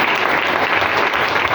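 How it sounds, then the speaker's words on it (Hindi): Dense, steady applause from a seated audience at an indoor business meeting in India, a loud continuous wash of clapping that fills the moment without talk over it. "ताली होनी चाहिए ऐसे"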